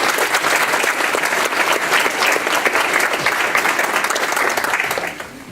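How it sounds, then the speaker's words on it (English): A school board meeting audience gives the students a round of applause, dense and steady clapping from many hands filling the room, then tapering off at the end. "And again, another round of applause for the students."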